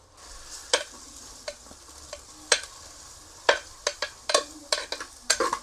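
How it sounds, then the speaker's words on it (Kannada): Onions frying for a homemade prawn biryani sizzle softly in a pan, broken by a series of sharp, close spatula scrapes that quicken toward the end. "ಆನಂತರ ಈರುಳ್ಳಿ ಕೂಡ ಫ್ರೈ ಆಗಬೇಕು."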